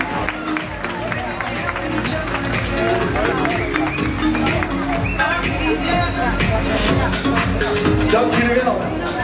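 A large audience at the Hengelo 2018 fashion show claps loudly and steadily, blended with crowd cheering, chatter and hubbub that continue throughout.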